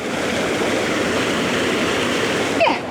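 Waterfall near Loch Rannoch, a steady, loud broadband rush of falling water heard close up and alone throughout.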